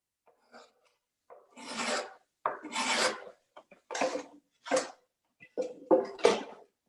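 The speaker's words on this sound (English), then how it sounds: "So this is just a shallower gouge that makes a smoother surface and less facet." A shallow gouge pares across the grain of wood in about six distinct rasping strokes, each a short scraping shave separated by brief pauses, close and fairly quiet.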